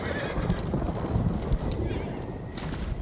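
A horse neighs and whinnies in Ghost of Tsushima, with hooves clip-clopping through the short stretch, close and fairly loud over game ambience.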